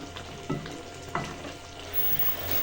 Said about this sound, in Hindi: अब इसकी भुनाई करेंगे अच्छे तरीके से जब तक कि इसका जो ऑयल है वो ऊपर नहीं आ जाता